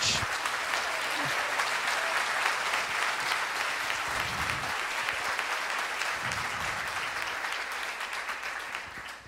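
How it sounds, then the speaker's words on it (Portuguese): A church congregation at a Sunday evening service applauds loudly, sustained clapping with crowd noise that holds strong throughout, a few low voice bursts underneath, before tapering slightly at the end. "Mas você vai aplaudir, aplaude forte."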